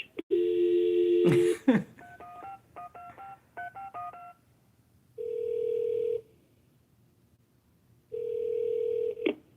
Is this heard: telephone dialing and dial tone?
yes